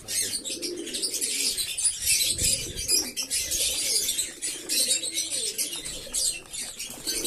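Nazra pigeons coo steadily at feeding time in a busy loft, under bright chirping and bursts of flapping wings. The flock sounds close and fairly loud throughout, with no talk.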